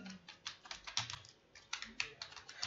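Password being typed on a computer keyboard while logging into ICICI current account net banking: rapid clusters of close, crisp key clicks in uneven bursts with brief pauses, a faint voice in the background.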